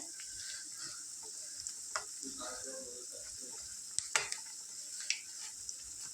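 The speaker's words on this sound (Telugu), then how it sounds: "ఇవి light and light golden brown కలర్లో వచ్చే వరకు ఫ్రై చేసుకోవాలి" Mysore bonda fry in a pan of hot oil, a soft, even sizzle with occasional clinks and scrapes of a metal ladle turning them.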